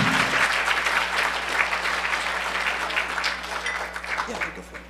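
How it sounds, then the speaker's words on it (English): Sustained audience applause at a 2008 hacker conference talk, a steady dense wash of clapping from a large crowd lasting throughout, with a low hum beneath. "Give him a round of applause, everybody"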